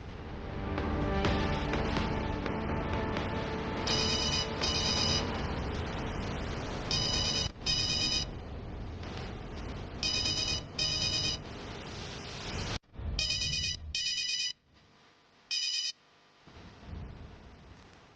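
A telephone rings in repeated short bursts, each a doubled trill, sounding over a loud, continuous music bed that drops out briefly between rings.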